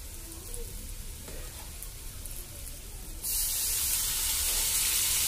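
Cut tomato pieces drop into a hot pan of fried cashews, setting off a sudden loud sizzle after a quieter stretch of low frying, then sputtering steadily to the end.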